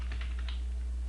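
A few quick keystrokes on a computer keyboard while an SQL query is entered, soft clicks within about a second over a low steady hum.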